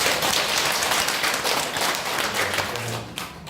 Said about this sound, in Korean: 스스로를 위해서 박수 주세요.